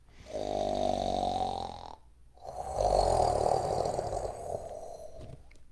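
A voice imitates a bear's snore during a children's storytime: two long, loud rumbling snores with a brief pause between them.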